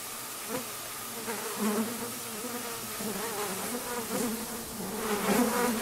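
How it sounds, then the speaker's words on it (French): A dung fly (Scatophaga stercoraria) gives a steady, wavering insect buzz, close and moderately loud, droning without pause and with no voices. "La mouche à merde, ou Scatophaga stercoraria, qui peut mesurer de 5 à 12 mm"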